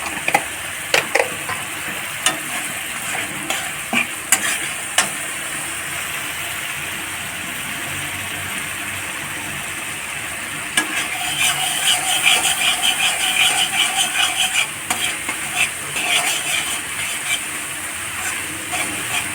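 Ginger paste added to radish frying in a pan: a steady hiss of hot oil with light clicks of a utensil, the sizzle swelling louder partway through as the paste hits the pan.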